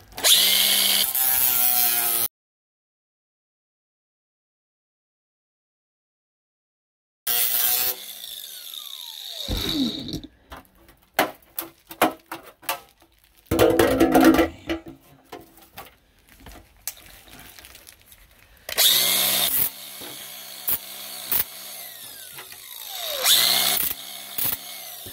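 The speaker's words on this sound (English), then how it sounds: "I'm going to take a grinder, I'm going to cut this line" An angle grinder cuts through a metal gutter downspout in several bursts, harsh screeching cuts separated by silence and quieter handling noises, loud and close.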